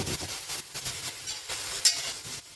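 Sesbania flower chili paste stir-fried in a pan, a steady close sizzle with scraping stirring strokes throughout and a brief sharp clink near the end.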